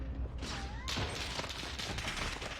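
Rapid bursts of video game gunfire from an online shooter fill the clip, a dense, continuous barrage of shots with a sharp crack near the start, fairly loud and without talk over it.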